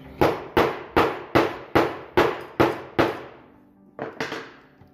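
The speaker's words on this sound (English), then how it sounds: "That's when you just come in with a hammer." A series of seven sharp hammer blows flattening a wooden DDR dance pad, steady rhythm, then a short pause and two more quicker strikes, loud and close, with no talking.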